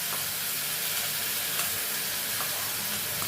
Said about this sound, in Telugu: ఫస్ట్ మనం ఈ ఉల్లిపాయలు వేసేద్దాం తాలింపులో.